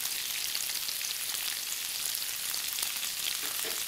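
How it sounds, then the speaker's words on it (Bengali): Pointed gourd pieces frying in oil until reddened: a dense, even sizzle and crackle throughout, close and steady with no voices. "এবার পটলগুলোকে একটু লাল করে ভেজে নেব।"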